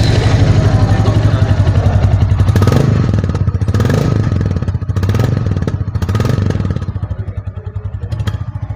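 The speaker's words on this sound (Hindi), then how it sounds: "ये है इस बाइक का इंजन का साउंड," A new Royal Enfield Classic 350 motorcycle engine runs loud and close, thumping at idle before several blips of the throttle raise and drop the revs, then easing back to a rhythmic idle.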